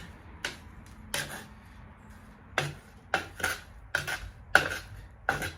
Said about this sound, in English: Gonna continue to melt this wax in with the dirt. Stir it.